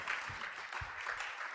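A conference audience applauds after a talk, a dense, steady patter of clapping at moderate distance that continues throughout.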